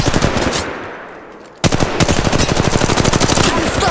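Rapid automatic gunfire from a shooter in Apex Legends Mobile, a dense burst that fades briefly, then resumes as a sustained loud string of fast shots.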